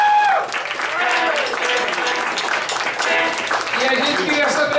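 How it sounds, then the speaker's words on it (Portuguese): Audience applause for the creator of a rock-and-roll film, a steady dense wash of clapping with crowd voices and cheers mixed in throughout. "Palmas para ele que criou esse"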